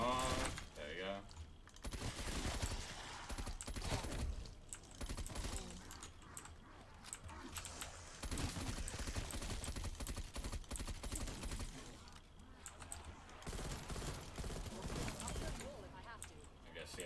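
M16 rifle fire in Call of Duty Cold War Zombies, repeated bursts of sharp shots in dense clusters with short pauses between them, mixed with game effects and background clutter.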